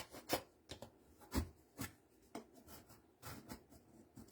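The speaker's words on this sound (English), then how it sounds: "Just going to take something to rub it down." Tape is rubbed down on a handmade post-it note holder, a quiet series of short, scratchy rubbing strokes at an uneven rhythm, heard close up.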